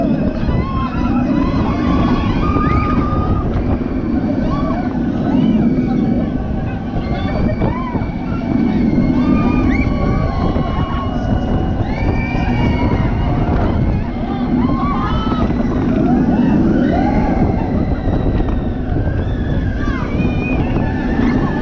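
Wind rushes past steadily and loudly on the Flight of the Pterosaur roller coaster at Paultons Park, a constant buffeting roar lasting around twenty seconds with no clear voices.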